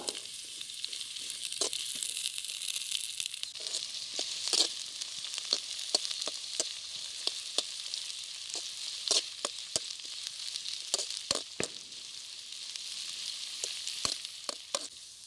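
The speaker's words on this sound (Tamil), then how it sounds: "பிரண்டையை போட்டு நல்லா வதக்கிட்டே இருக்கணும்" Pirandai, the adamant creeper, sautés in oil with a steady mid-level sizzle, broken by frequent sharp clicks and scrapes of a spatula stirring in the pan, close and without speech.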